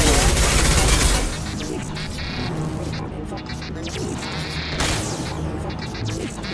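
Heavy gunfire erupts in a Mass Effect 2 combat scene, starting as a dense, loud burst of shots with booms and crashes, then thinning into a steady barrage under game sound and voices.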